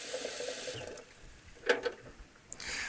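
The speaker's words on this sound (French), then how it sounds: "on remplit avec de l'eau claire." Clean tap water filling the reservoir of an automatic coffee machine during descaling, a close hissing stream from a faucet that cuts off midway, followed by a few plastic clicks and the water running again.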